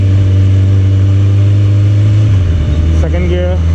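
A superbike engine rumbles loud and steady, then the pitch drops and rises again as the rider opens the throttle to accelerate.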